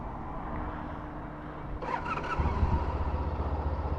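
A Honda ST1300 motorcycle engine cranks and catches partway through, then settles into a steady, close idle with a low, even throb.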